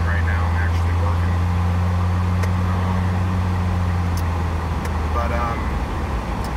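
A car drives along, heard from inside the cabin as a steady low road and engine hum beneath someone talking throughout.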